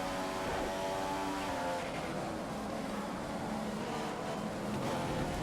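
Mercedes-powered Formula 1 car engine screaming in the racing game F1 2015 at the Australian Grand Prix, a steady loud high-revving whine held throughout with no break.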